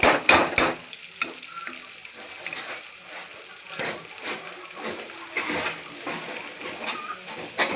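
Onion and egg sizzling and frying in a pan, a steady crackling hiss with stirring scrapes and splatters throughout, close and fairly loud.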